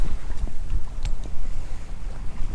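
A small sailboat races fast through open water, with splashing hull noise and strong wind buffeting the microphone in uneven gusts.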